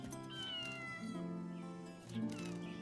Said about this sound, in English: Oh, nice kitty.